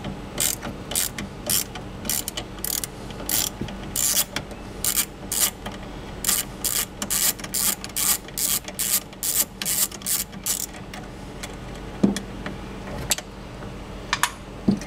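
Screws are undone on the F1 pump motor of a Ferrari 360 Modena, giving a run of quick, close ratcheting clicks in fast rhythmic bursts that slow and thin out near the end.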